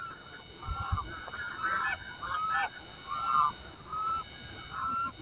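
Ducks calling on Dal Lake in Srinagar, Kashmir, a series of nasal honking calls in short bursts, moderately close over a steady outdoor hiss.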